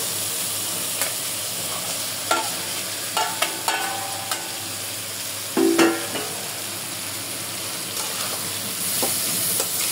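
Arum stolons are stirred into a cooked-down paste of chilli powder and spices in a pan, giving a steady close sizzle broken by several scraping and knocking strokes of a spoon against the pan.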